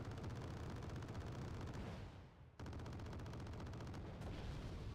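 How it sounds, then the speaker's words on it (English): PGZ self-propelled anti-aircraft guns firing at enemy helicopters in the war strategy game Wargame: Red Dragon, a dense, continuous rattle of rapid automatic cannon fire that drops briefly before resuming at full loudness. "PGZ here trying to shoot down the enemy helicopters"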